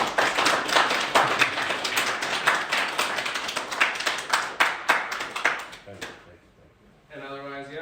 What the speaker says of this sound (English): if we could just one little round of applause for Nick.